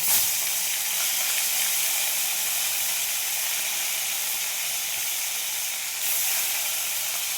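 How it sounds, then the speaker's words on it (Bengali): Tilapia fish frying in mustard oil, a loud, steady steamy sizzle close by that swells briefly near the start and again toward the end, with no one talking. "এখানে সর্ষের তেল দিয়েছি আমি, মাছগুলো ভেজে নেব।"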